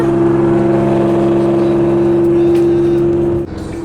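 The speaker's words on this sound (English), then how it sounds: "the exhaust in this car drones very badly" A car exhaust drones with a low, steady hum while driving, holding a constant pitch before dropping slightly near the end.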